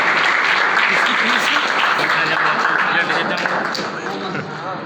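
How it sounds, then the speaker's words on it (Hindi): An audience at a school annual results-distribution ceremony applauds in a loud, dense burst of clapping that gradually tapers off, with voices faintly underneath. "तालियां कुछ कम पड़ रही है लग रहा है"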